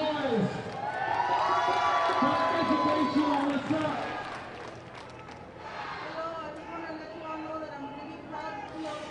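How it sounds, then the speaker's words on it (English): Protesters inside a City Council meeting room chant and shout together for a council member to resign, the crowd noise loud at first, then thinning and growing more distant toward the end. "The folks inside, they're chanting for Council Member Kevin De Leon, who at least at one point was in that crowd, to resign"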